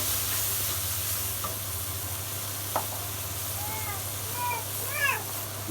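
A ground paste of onion, cumin, green chili and mustard fries in hot oil with a soft, steady sizzle, joined near the end by a few brief high squeaky chirps.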